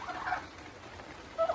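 A turkey gives a brief gobble, faint at first and then louder in a short burst at the end, close by in a quiet space.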